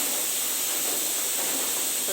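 A pressure cooker boiling lentils whistles, a loud, steady hiss of steam jetting out continuously, broad and unbroken for the whole stretch with no pauses or talking.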